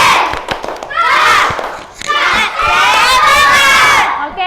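A class of schoolchildren performs a 'tepuk semangat' clapping chant, loud and close, with rhythmic claps at the start and then sustained group shouting in two long bursts.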